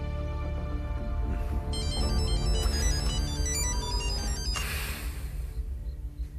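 A telephone rings with an electronic ringtone, a repeating melodic chirping over a low background rumble that lasts a few seconds before cutting off.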